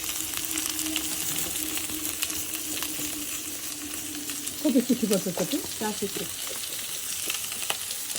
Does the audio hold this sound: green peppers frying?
yes